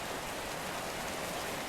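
Steady rain pours in the game Path to Nowhere, a loud, even hiss of falling water with no pauses or voices.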